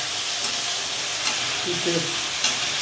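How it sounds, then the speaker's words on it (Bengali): Ivy gourd frying and being stirred in a hot pan, a steady close sizzle with occasional scraping stirs. "কুন্দরি ভাজা হচ্ছে বন্ধুরা গরম গরম কুন্দরি ভাজা"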